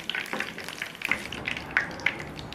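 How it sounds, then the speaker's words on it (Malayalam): Curry leaves dropped into hot oil crackle and spit softly, with scattered sharp pops over a faint, continuous sizzle. "ആദ്യം തന്നെ നമുക്ക് കുറച്ച് കറിവേപ്പില ഇട്ട് കൊടുക്കാം."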